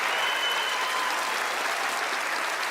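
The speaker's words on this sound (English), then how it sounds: "let's give them a warm round of applause as they join me up onto the stage" A studio audience at a magic show gives loud, sustained applause as Penn and Teller come up onto the stage, a dense, steady wash of clapping throughout.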